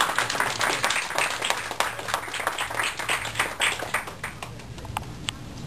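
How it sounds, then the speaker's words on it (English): A small audience at a computer hardware presentation claps, with scattered individual hand claps standing out from a light, uneven round of applause that gradually thins out. "I want to give a round of applause to the guys."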